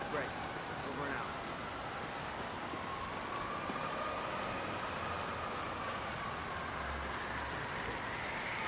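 Steady rain falling in the Chongqing, China level of the video game Hitman 3, a constant dense hiss of drops on surfaces with faint tonal sounds drifting through, and a voice speaking over it.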